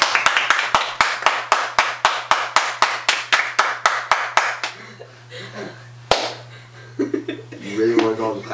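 Hands clap in a fast, steady rhythm of about two dozen sharp, close slaps during a clapping game on a reunion show, then stop, giving way to a few scattered claps and voices.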